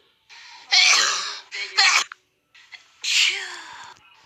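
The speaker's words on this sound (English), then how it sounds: "That was a sneeze." A person sneezes loudly and close up in a series of sharp, explosive bursts with gasping intakes of breath between them, three or four blasts over a few seconds.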